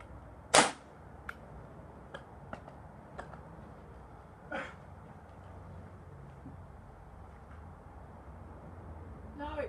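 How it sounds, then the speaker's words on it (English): Remington Tyrant .22 air rifle shot at a Samsung TV, a single sharp crack near the start followed by fainter clicks and a second soft impact, with quiet background and occasional speech. "Right, I'm going to shoot it."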